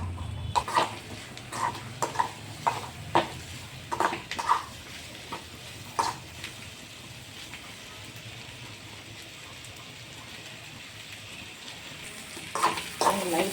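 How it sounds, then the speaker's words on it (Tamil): An egg omelette mixture is stirred and fried in a pan, giving scattered clinks and scrapes of a utensil against the pan over a quiet background hiss, with a busy stretch at the start and another at the end. "இதை நல்லா கிளறி கொடுக்கலாங்க."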